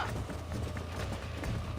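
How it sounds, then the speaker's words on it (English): A stallion gallops in the Red Dead Redemption video game. Its hooves make continuous rapid clip-clop beats over a dense, steady game soundscape. "the stallion's getting away"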